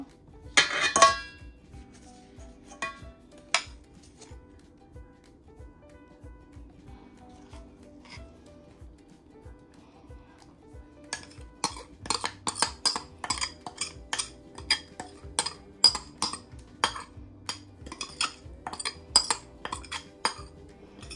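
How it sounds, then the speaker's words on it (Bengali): Tandoori marinade is worked into a whole chicken in a bowl: an early sharp clink, a quiet stretch, then a long run of quick repeated clinks and wet rubbing knocks, close and moderately loud, with no talking. "এখন আমি এটাকে সম্পূর্ণ চিকেনটাকে এখন ম্যারিনেট করে দিব।"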